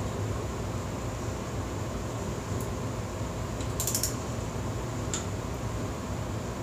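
A torque wrench on motorcycle cylinder head bolts gives a few sharp, brief clicks against a constant mechanical hum, one near the middle followed by a quick cluster and a final click.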